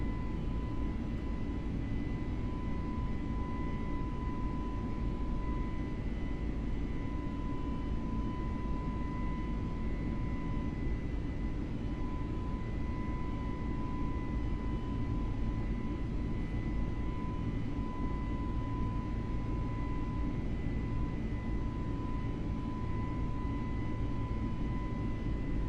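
Airbus A320 (FBW A32NX) arriving into Lisbon in Microsoft Flight Simulator, a steady, even cabin-like engine drone with a constant tone running through it, unchanging and fairly quiet throughout.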